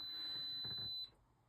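A single steady high-pitched electronic beep from a Arabian arcade machine circuit board under restoration, thin and fairly faint, holding for about a second before cutting off.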